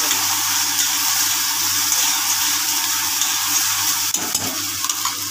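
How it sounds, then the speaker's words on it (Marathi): Gravy frying in hot oil in a pan, a steady loud sizzle and hiss running throughout with a brief stir or scrape near the end, no voices. "नंतर याच्यामध्ये ग्रेव्ही सोडून देणार आहे. ही ग्रेव्ही सोडली की तेलात होऊ द्यायची."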